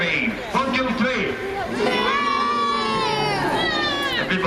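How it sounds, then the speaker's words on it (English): An outdoor crowd at a naval warfare battle show in Peasholm Park, Scarborough, boos loudly and together on cue, a sustained wavering group jeer of many voices that lasts several seconds. "can I get a good practice boo from you?"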